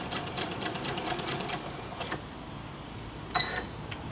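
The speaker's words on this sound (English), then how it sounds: "I just want to finish that up with a few backwards and forwards stitches to secure it." Sewing machine stitching backwards and forwards to secure a seam, a steady fast whirring chatter for about two seconds, then a pause and a brief sharp mechanical click near the end, fairly quiet and close.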